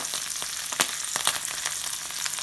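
Salted fish frying in a little oil for a papaya curry: dense, steady crackling and sizzling with frequent sharp spitting pops, close and continuous, with no talking.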